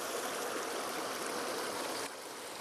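A river in central-western Mayotte where laundry is washed by hand, its water rushing in a steady, dense, close wash that drops slightly in level near the end; no voices.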